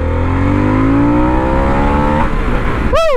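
A Harley-Davidson Sportster S motorcycle in sport mode accelerates hard and loud, its engine pitch climbing steadily through a gear before a quick shift and another rising pull, close and alone with no talking.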